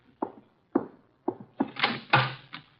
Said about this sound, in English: Archie, the door, our guests are arriving